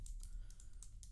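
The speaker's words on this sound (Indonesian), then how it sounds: "Kita ketik di sini" Quick keystrokes on a computer keyboard while typing a web address on a Mac, a short run of about six light, crisp clicks, close and quiet with no talking.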